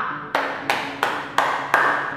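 Five evenly spaced claps from students in a classroom lesson, each sharp hit ringing briefly before the next, steady and moderately loud with no talking.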